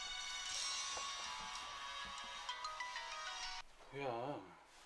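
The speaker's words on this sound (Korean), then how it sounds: "그런데 벨소리가 방에서 들립니다." A mobile phone ringtone rings indoors in a cluttered room, a bright repeating melody playing for several seconds, then breaking off as a voice speaks briefly.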